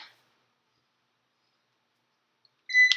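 A workout interval timer gives a couple of short electronic beeps near the end, preceded by a brief faint blip and otherwise near silence, close and clear with no talking.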